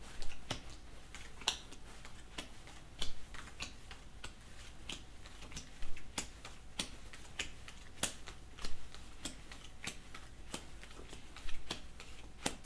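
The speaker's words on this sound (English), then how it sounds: "lay the cards down in the three rows of seven" Playing cards laid down one at a time into three rows of seven for a card trick, a steady series of soft, close slaps and ticks on a table with occasional louder taps, with no talking.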